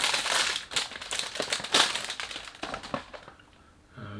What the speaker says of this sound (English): so sorry about the noise when you do unboxing